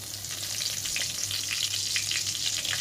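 Cumin seeds crackling in oil already used to fry fish: a short burst of close, busy sizzling with scattered pops and a stirring scrape, no speech.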